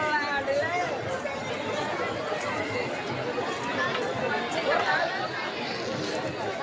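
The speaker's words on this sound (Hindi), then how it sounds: "चारों तरफ भीड़ लगी है।" Dense crowd of pilgrims at night at Ardhkuwari on the Vaishno Devi yatra, a constant babble of many voices near and far, with occasional louder calls rising from the hubbub.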